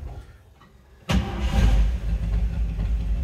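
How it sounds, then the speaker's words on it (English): A 1955 Chevrolet 3800 pickup with glass-pack mufflers is cranked with its floor-mounted starter. After a second of quiet it fires abruptly and settles into a loud, rumbling idle close by. "let's go ahead and fire this up so you can hear it run."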